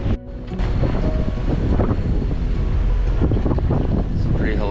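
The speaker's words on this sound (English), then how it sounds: "Pretty hellacious waves." Big, rough waves and strong wind while sailing a boat on Chesapeake Bay, loud, continuous rushing and buffeting across the microphone with water surging and crashing around the hull throughout.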